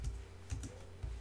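Quiet clicks of a computer keyboard as a command is typed, three light keystrokes spaced about half a second apart over a low steady hum.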